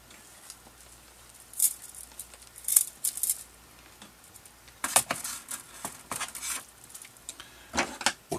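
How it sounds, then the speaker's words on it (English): Scissors snipping soft wire while a staghorn fern is planted in a moss ball: a few sharp, brief clicks and snips scattered among soft handling rustles, close and intermittent. "I'm able to cut this wire with scissors"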